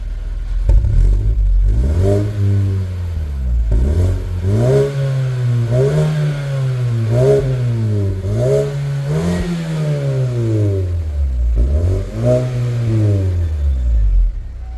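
A 2024 Mazda 3 fitted with an HKS Legal muffler exhaust revs repeatedly, the engine note rising and falling in a steady series of loud close pulls with a brief dip between them.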